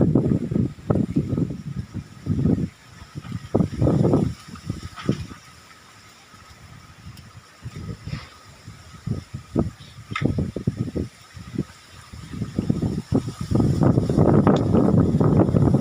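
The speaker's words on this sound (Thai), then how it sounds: "ลมแรงมากเลยนะ" Strong, cold winter wind gusts at Paet Riu in Chachoengsao, Thailand, buffeting the microphone in loud, rumbling bursts that rise and fall, easing briefly midway before surging again, with no one talking.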